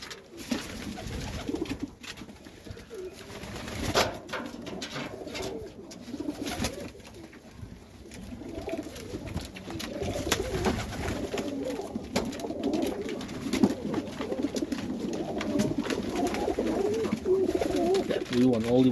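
Highflyer pigeons coo softly and repeatedly inside a loft, low throaty calls under bursts of rustling and handling noise, with occasional people talking nearby.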